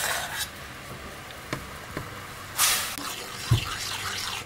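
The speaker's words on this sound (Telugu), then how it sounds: "ఇప్పుడు ఈ పాకంలో ఈ రవ్వని 5 నిమిషాలు ఇలా తిప్పుకుంటూ అడుగంటకుండా ఉడికించుకోండి." A spoon stirs wheat rava through melted jaggery syrup in a pot, giving soft wet scraping and sticky sloshing with a few sharper clinks against the vessel, close and moderately loud.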